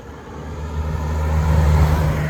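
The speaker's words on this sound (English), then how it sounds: "That was just a car." A car passes nearby with a low engine rumble that swells steadily as it approaches.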